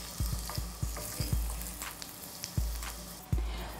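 Onions frying over high heat in a pan: a constant bright sizzle with repeated soft scraping knocks as they are stirred, about nine strokes at an uneven pace, close by and without speech.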